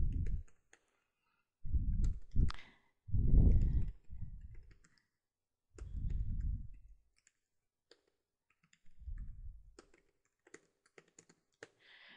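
Scattered clicks of keyboard typing, quiet and close, broken up by several low thumping bursts and stretches of near silence.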